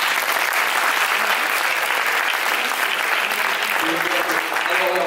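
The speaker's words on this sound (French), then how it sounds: "On peut l'applaudir encore une fois" Applause from an audience at a comedy show, a loud, dense and continuous wash of clapping that holds steady throughout, with faint voices underneath.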